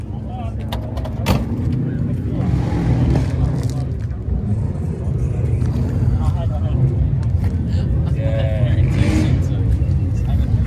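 A car engine revs at the Summernats car show, a loud, deep, rumbling roar that surges and holds, with voices and crowd noise mixed in around it.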